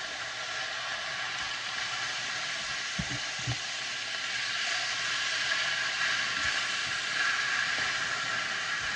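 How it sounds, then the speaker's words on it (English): Fresh washed spinach cooking down in a hot pan, a steady soft sizzling hiss with a couple of low thumps from handling, close and continuous with no voices. "Now I'm going to add my fresh washed spinach. We just want it to wilt down a little."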